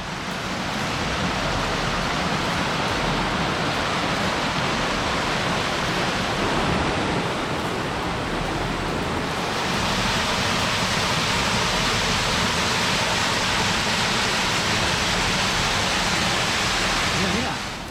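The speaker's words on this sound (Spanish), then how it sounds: "aquí baja el agua por todos lados" Mountain stream water tumbling down a slope beside an old watermill on the Corroriú mill trail in the Ubiñas-La Mesa natural park, Quirós, Asturias, a steady, loud broadband rush that fills the whole clip and swells slightly halfway through.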